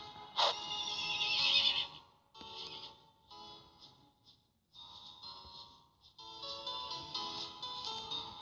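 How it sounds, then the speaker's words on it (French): A horse neighs repeatedly in long, shrill whinnies with brief pauses between them, close and clear with no talking. "Un cheval."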